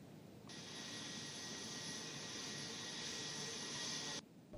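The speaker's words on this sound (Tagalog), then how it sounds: "pinalipad itong surveillance aircraft na nakikita ninyo sa aking likuran. Ito yung tinatawag na P-8 Poseidon ng US Navy" A US Navy P-8 Poseidon surveillance aircraft flies past with a loud, steady jet roar that holds for about four seconds and then cuts off, with no talking.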